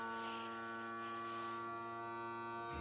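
Electric mason jar vacuum sealer running, a steady close mechanical buzz and hum with no talk, stopping abruptly near the end.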